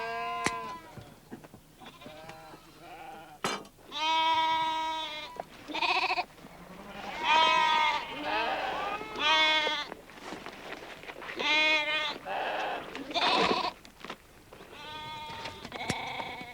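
Several sheep bleating repeatedly, wavering calls overlapping at close range with short gaps between them, and no talking.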